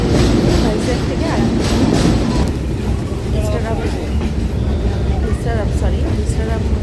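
A Vistadome train coach runs through hills between Vizag and Araku Valley, its steady low rumble and rattle continuing underneath a person talking nearby for the whole stretch.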